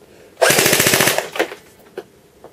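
A JG Military AUG airsoft gun fires a short full-auto burst, a rapid even stream of sharp close shots lasting under a second, followed by a few scattered single clicks and knocks.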